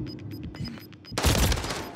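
Burst of gunfire in the Call of Duty Modern Warfare 3 video game, loud and dense in the second half, following quieter game sounds and faint tones.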